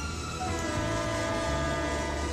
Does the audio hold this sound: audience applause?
no